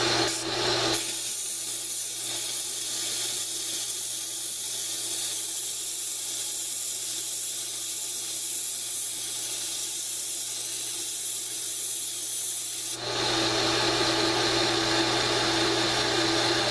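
A belt grinder fitted with a 2-inch-wide 120-grit belt sands the curved spine of a knife blade, giving a continuous harsh rasping hiss that shifts in tone near the end as the motor whine returns.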